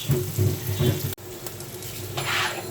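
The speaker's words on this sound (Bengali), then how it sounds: "চিংড়িটা ভালো করে তেলের উপর ভাজা হচ্ছে" Shrimp fry in hot oil in a pan, a steady close sizzle with stirring scrapes through the first second, then continued frying crackle after a brief cut.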